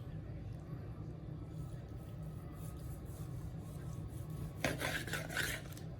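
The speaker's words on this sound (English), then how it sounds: "We're gonna cut into this flat. Take a few slices and see how it looks." A knife slices into the flat of a smoked brisket cooked on a Weber Smokey Mountain, a soft scraping rasp of a few strokes near the end over low steady background hum.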